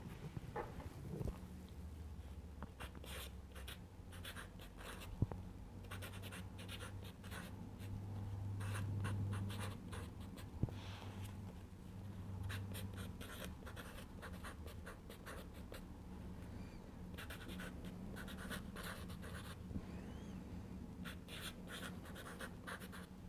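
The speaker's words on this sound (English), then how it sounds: "let's quickly write these names down" Pen writing footballers' names onto paper for a Premier League fantasy football team, a steady close scratching and scribbling that runs nearly throughout with brief pauses and soft handling noises, quiet and alone.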